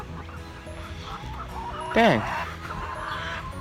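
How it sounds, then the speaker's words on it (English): Backyard chickens squawking and clucking in an agitated burst, with one loud rising call near the middle over a steady murmur of flock noise; a voice speaks briefly. "There's one of my chickens. My favorite chickens. Shh. Yeah, they're getting all riled up"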